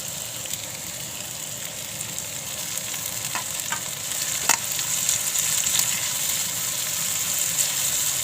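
Onion and tomato sizzle steadily in hot oil with curry leaves, a continuous close frying hiss with occasional sharper crackles and pops, no talking.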